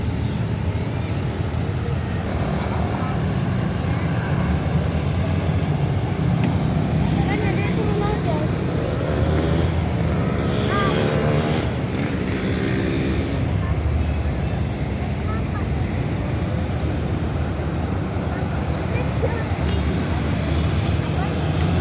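Road traffic at a busy roundabout, including a Putra Pelangi Patas intercity bus during the holiday travel rush, gives a steady engine rumble with passing vehicles, under someone talking throughout.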